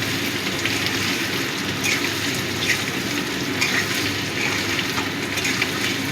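Chopped ginger sizzling in hot oil in a pan while cooking cumin potatoes, a steady, even frying hiss with faint crackles, close and continuous.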